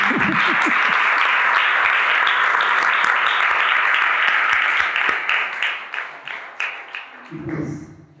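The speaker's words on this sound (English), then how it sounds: "So, big applause, no?" Lecture audience in a hall applauding at the end of a quantum theory lecture, a dense steady wash of clapping for several seconds that thins into scattered claps and fades, with a voice speaking near the end.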